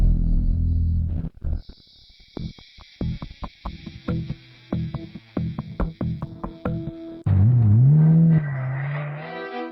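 A luxury car is heard as a string of sharp clicks and thumps, then a loud engine rev that swells and rises in pitch near the end.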